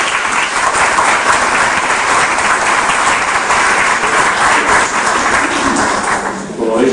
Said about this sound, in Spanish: Por favor, un aplauso para él.